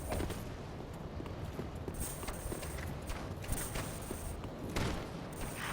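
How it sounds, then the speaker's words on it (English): Wet, slapping footsteps from a pursuer in the game Dark Souls, a steady run of soft, clopping impacts that stays faint and distant throughout, with no talk over them. "I hear wet slapping footsteps behind us."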